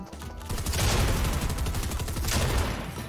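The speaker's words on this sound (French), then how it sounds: "Y'a un mec qui me tire dessus" Rapid gunfire in the Fortnite video game, loud and sustained bursts filling the whole stretch with dense repeated shots.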